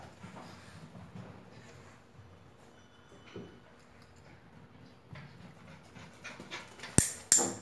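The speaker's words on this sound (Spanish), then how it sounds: "cómo un perro Border Collie de 2 meses y medio ya nos trae la pelota dándole la orden" A two-and-a-half-month-old Border Collie puppy pants faintly and quickly while fetching a ball, the soft breathing low in the background with a couple of sharp knocks near the end.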